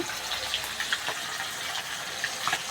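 Soaked Gobindobhog rice being rinsed in water, with a steady close-up wash of running and sloshing water and faint grain-like clicks, and no talking.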